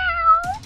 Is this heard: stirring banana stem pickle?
no